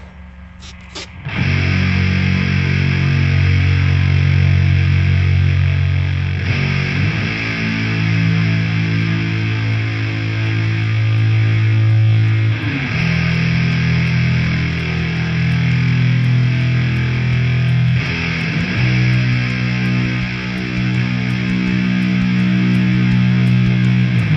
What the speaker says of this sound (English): This is the Mu-Tron biphase.